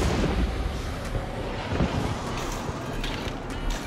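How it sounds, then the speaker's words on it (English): Distant gunshots in the video game Hunt: Showdown, heard as muffled booms and pops under a steady loud game ambience. "Shots to our west really far."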